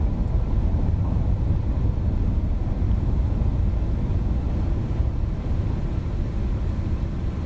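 An MD-11's thrust reversers roar during the landing rollout in X-Plane 11: a loud, unbroken, broadband rumble that holds steady throughout with no voices.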